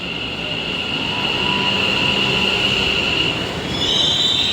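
A metro train pulling into a station, loud continuous rumble with a high steady wheel squeal and rising whine near the end, no voices over it.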